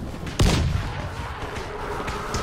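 A single booming explosion in the zombie video game Dying Light, a sudden loud blast that decays into a rumbling tail with game ambience continuing behind it.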